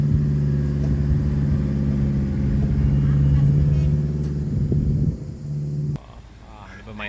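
A Suzuki Carry vegetable truck drives past on a road after rain. A steady, loud engine rumble and drone holds, then drops off sharply as it goes by.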